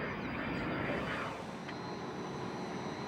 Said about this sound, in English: As the plane touched down